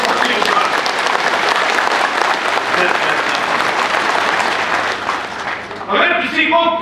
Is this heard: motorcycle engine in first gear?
no